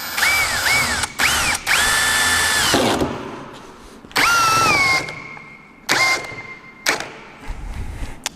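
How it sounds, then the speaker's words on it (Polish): A cordless drill in drill mode drives a screw into wood in several loud bursts, its whining motor rising and falling in pitch between short pauses, close by with no talking. "Od razu ustawiam sobie tutaj wkrętarkę na tryb wiercenia"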